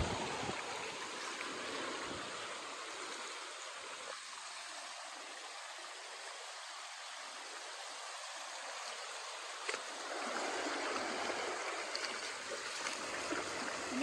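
Steady rushing of a flowing stream at a crab-catching spot, a broad continuous wash of water running close by throughout with no talk.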